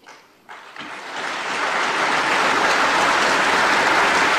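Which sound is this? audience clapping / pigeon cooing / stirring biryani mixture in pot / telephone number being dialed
audience clapping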